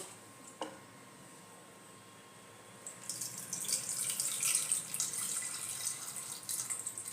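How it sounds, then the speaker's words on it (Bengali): Water runs into a pot of six tomatoes and a dried chilli, a faint close trickle that swells into a steady splashing pour after a few quiet seconds and a single soft knock. "এর মধ্যে আমি জল দিয়ে দেব"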